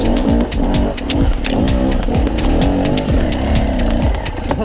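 A Beta RR300 two-stroke cross-training enduro motorcycle is ridden on a hill-climbing trail. Its engine runs loud and close throughout, rising and falling in a rapid rhythm of revs as the throttle is worked, with no talking.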